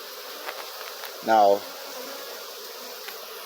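Honeybees hum around an open beehive being removed in Jamaica, a faint steady buzzing drone in the background, briefly covered by a single spoken word.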